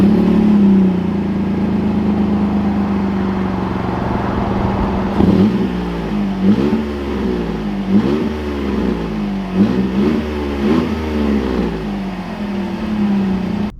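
Modified Chevy Colorado ZR2 off-road truck idles steadily, then pulls away with a series of rising engine revs and gear changes, close and fairly loud, no talk.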